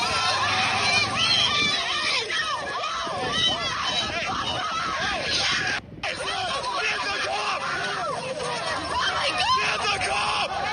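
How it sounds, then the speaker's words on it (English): People scream in the background, a continuous dense wash of distant crowd cries and yells with voices talking throughout. "Can you hear the screaming there?"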